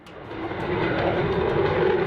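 A General Dynamics F-16 Fighting Falcon fighter jet engine gives a steady, rising roar that builds over the first moment and then holds as a broad, continuous rush.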